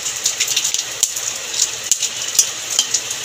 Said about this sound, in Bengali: তেল গরম হয়ে গেছে, ফোড়ন দিয়ে দেবো এলাচ আর লং।